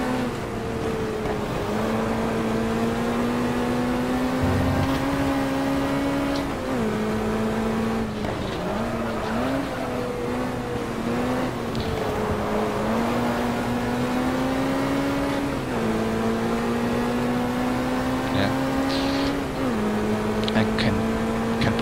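A TVR Griffith 400 race car engine in the racing game GT Legends drones loud and steady, its pitch climbing through the gears and dropping at each shift, with a voice talking over it.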